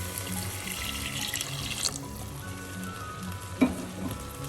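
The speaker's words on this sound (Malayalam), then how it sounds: "1 ഗ്ലാസ് ചൂടുവെള്ളം ഒഴിക്കും." A glass of hot water goes into a simmering mackerel and mackerel-head chilli curry with cooked-down tomatoes, making a soft sizzle and watery rush that fades, then a clink near the end; no one speaks.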